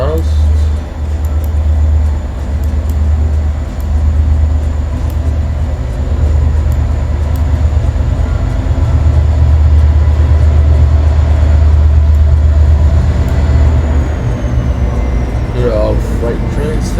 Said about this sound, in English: Excuse the train going past.